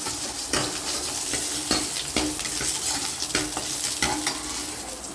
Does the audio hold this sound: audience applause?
no